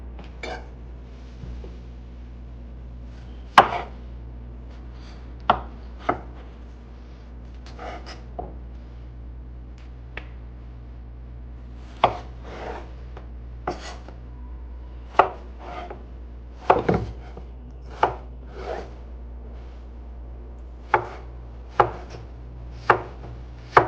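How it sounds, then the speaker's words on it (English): Potatoes being chopped into bite-sized pieces with a knife on a cutting board, sharp isolated knocks at irregular intervals, close and clear over a quiet low kitchen hum, with no talking. "I'm going to go ahead and chop up our potatoes"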